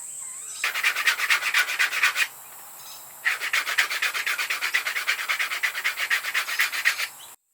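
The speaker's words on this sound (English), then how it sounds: "So there it is, all sanded down. It's sanded down to 240." Handmade wooden swimbait body being sanded down to 240 grit, with close, steady rhythmic back-and-forth rasping strokes in two long runs broken by a brief pause, and no talking.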